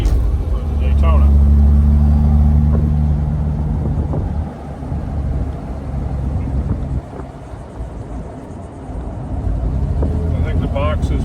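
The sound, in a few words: 1957 Lancia Aurelia B24S Cabriolet driving, shifting gears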